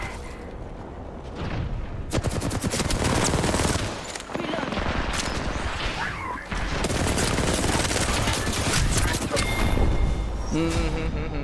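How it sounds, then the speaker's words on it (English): Rapid, loud gunfire fills an Apex Legends fight, with dense overlapping bursts and automatic fire almost throughout and game voice callouts mixed in. "Hostile. Taking fire."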